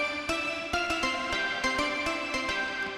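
Dirty Pluck, a punchy, poppy percussive synth pluck, fires short bright notes in a quick rhythmic pattern, each with a sharp attack and fast decay, loud and close with no voices.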